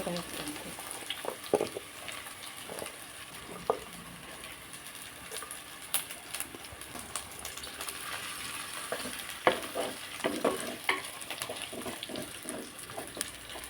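Onions sauté in a pan for drumstick curry with a steady low sizzle and frequent stirring scrapes and clicks, close and moderately quiet, with no voices.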